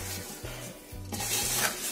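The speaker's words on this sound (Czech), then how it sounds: "Všecko pořádně promíchám." Pieces of pork belly sizzle in a hot pan while being stirred, with brief scraping and soft clattering over a steady fry. The sound is short, close and moderately quiet.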